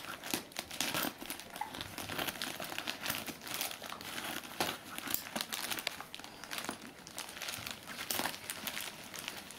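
A plastic-wrapped parcel from AliExpress holding a rubber-band bracelet kit being opened, with continuous close, quiet crinkling and crumpling of plastic wrap and occasional tearing, no talk.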